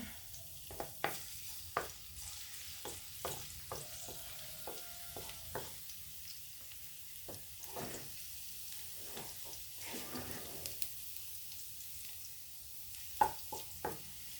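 Garlic sizzling in a pan while cooking kangkong, a crackling sizzle broken by sharp stirring clicks and scrapes at irregular intervals, close and fairly quiet, with no talking.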